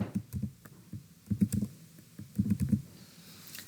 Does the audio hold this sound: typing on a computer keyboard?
yes